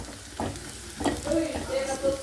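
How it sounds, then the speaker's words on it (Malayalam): Large onions fry in a pan for mutton aleesa with a close, steady sizzle. Clear scrapes from a spatula come at a few points, and one brief higher tone is heard. "അപ്പം ഞാൻ അതിലേക്കുള്ള ഉള്ളി വറുക്കുക കേട്ടോ"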